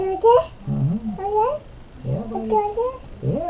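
A cat caterwauls in drawn-out, wavering yowls that rise and fall in pitch, repeated several times close by while someone talks casually over it.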